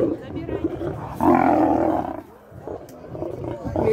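Lions and tigers roar from beach enclosures while being fed treats, a loud deep roar swelling midway over a throaty rumble, with people talking nearby.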